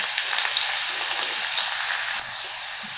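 About 10 to 15 crushed garlic cloves fry and brown in hot oil in a pan, giving a steady, moderately quiet sizzle that continues without a break.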